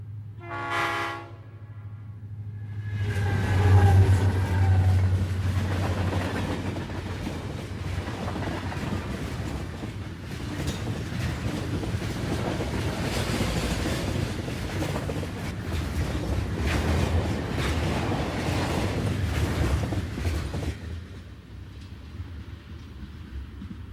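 A 1992 CSX freight train, R342, rolls eastbound across a bridge on the Magnolia Cut Off; a loud horn blast opens, then a sustained heavy rumble and clatter of wagons passes close by, with wind buffeting the microphone.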